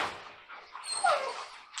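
A puppy whimpers near the microphone, giving a few thin, high whines and yips over a little under two seconds, fairly soft with no one talking.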